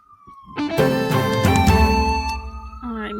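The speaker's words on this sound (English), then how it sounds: "Do you hear that siren?" A loud wailing siren rises and holds, its tone sweeping over a low rumble, close and continuous.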